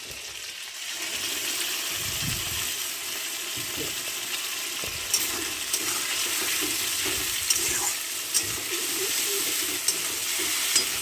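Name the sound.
spices frying with chicken being stirred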